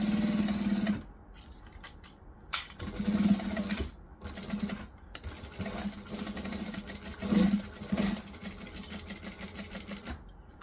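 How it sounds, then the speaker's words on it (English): A sewing machine stitches fabric in short bursts, a close mechanical whir that starts and stops repeatedly between pauses for pivoting, with needle clicks in the gaps. "Stitching across, needle down, pivot around."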